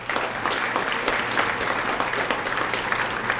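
Audience applause for school principals and assistant principals at a student heroes recognition event in Okaloosa County, Florida: a steady, dense wash of many hands clapping, loud and sustained without a break.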